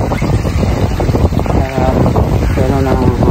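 Steady wind gusts buffet the microphone by the water at Al Mugheirah Bay, United Arab Emirates, at night, a loud, rough rush that covers faint background voices.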